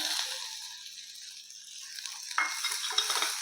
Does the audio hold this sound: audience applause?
no